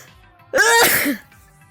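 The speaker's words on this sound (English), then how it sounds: "I'm gonna sneeze again." A single sharp sneeze bursts out close by, with a short voiced lead-in, then quiet.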